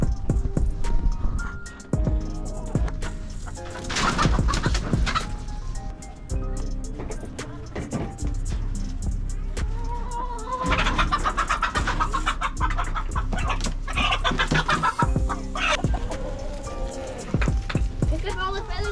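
Chickens clucking and flapping their wings while being handled, loud and close, with repeated bursts of wing flutter and squawks mixed with ongoing speech.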